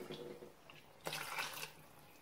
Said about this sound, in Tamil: இப்ப அதுக்கு தேவையான தண்ணி நம்ம ஊத்திக்கலாம்.